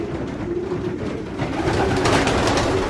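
Pigeons in a loft coo in low, soft, overlapping calls, a close and continuous murmur from many birds with rustling behind it.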